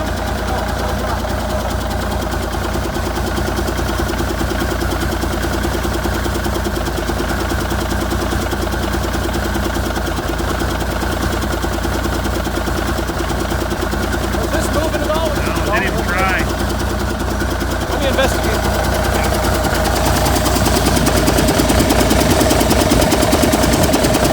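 Abandoned Versatile 895 tractor engine running, a loud, steady diesel rumble with a knocking throb throughout, close, with people talking over it.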